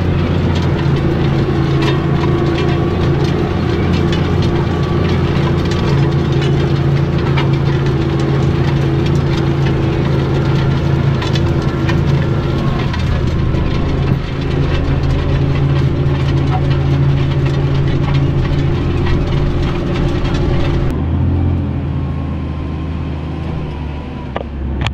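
A New Holland TM190 tractor pulls a five-leg He Va subsoiler with disc cultivator, its engine droning loud and steady at close range under working load, then easing lower near the end.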